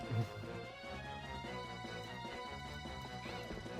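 Horse hooves clip-clopping at a steady gallop in a video game, the rhythmic thuds sitting under continuous music throughout.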